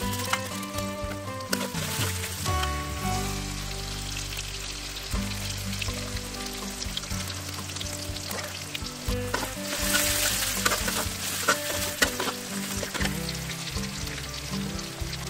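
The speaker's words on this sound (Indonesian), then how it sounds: "bawang merah dan bawang putihnya ya bunda. Tumis sampai harum dan berubah warna." Shallots and garlic sautéing in a pan, a steady dense sizzle and crackle running throughout, close up with occasional stirring clinks and no talking.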